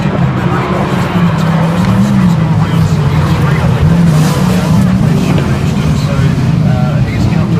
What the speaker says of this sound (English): Steve Thompson, the 99 car, coming off turn 4